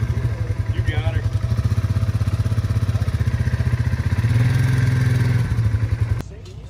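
Motorcycle engine revving nearby at an outdoor event, a loud rapid pulsing rumble that climbs in pitch mid-way, then stops suddenly near the end.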